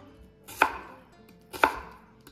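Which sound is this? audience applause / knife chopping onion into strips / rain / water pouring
knife chopping onion into strips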